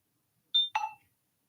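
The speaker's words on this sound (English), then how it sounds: "the fact that my phone beeps at me every time I get a notification" A phone's notification alert, two short electronic tones in quick succession, the first a thin high beep and the second a brighter, fuller chime, alone against silence.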